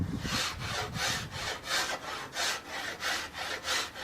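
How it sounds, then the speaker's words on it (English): A rasp works slowly along the wooden limb of a handmade bow during tillering, giving about nine even, rhythmic scraping strokes, close and fairly loud, with no talk. "What I'm doing is I'm slowly rasping the wood"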